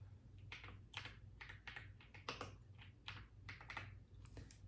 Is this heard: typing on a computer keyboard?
yes